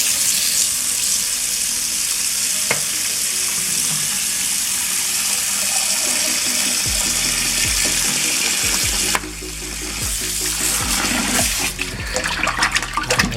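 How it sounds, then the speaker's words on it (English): Water pours from a tap over raw pork in a kitchen for char siu preparation, a steady hiss and splash that shifts to choppier sloshing and handling partway through. "And we're gonna pour water."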